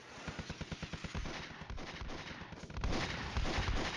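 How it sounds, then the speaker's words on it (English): Rapid, rhythmic thumps of a small 2-inch mortar firing in the Cold War wargame Flashpoint Campaigns, a steady string of repeated reports followed by denser, rumbling fire. "That mortar was not firing properly. That's a little 2-inch mortar."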